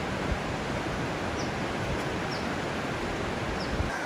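Bubbs Creek in Sequoia Kings Canyon National Park rushes with a steady, dense broadband roar of flowing water, constant and close with no breaks.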